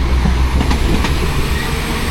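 A Northern train pulls out of Sheffield station, bound for Manchester Piccadilly, with a steady low rumble of wheels and carriages close by and faint rail clatter through the whole stretch.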